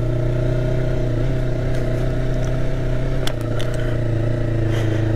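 A 2020 Yamaha MT-03 motorcycle drones under steady throttle while riding, a loud, even engine hum with slight pitch shifts and a few brief clicks, close and continuous, with no talk.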